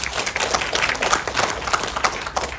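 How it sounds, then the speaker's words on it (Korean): A seated audience at a Korean lecture on Jeju 4.3 bursts into brisk, lively applause, many hands clapping close and loud in uneven waves that carry through without a break. "우리 한번 박수 한번 칩시다"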